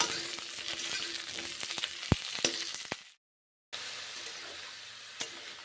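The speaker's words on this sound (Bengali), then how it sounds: "ভেজে নিচ্ছি ফুলকপি করলা ভেজে রান্না করছি" Cauliflower and bitter gourd fry in a pan, giving a steady crackling sizzle with a few sharp utensil knocks, a brief silent gap midway, then the sizzle resumes, close and moderately loud.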